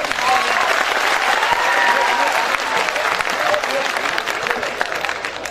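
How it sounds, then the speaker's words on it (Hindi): Loud, sustained applause from a large audience at a live kavi sammelan poetry recital during the Jalore Mahotsav festival, a dense wash of clapping holding steady throughout with no speech over it. "तो एक बार जोरदार तालियां बजाइए सब।"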